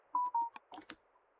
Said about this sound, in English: Looks like my phone's making noise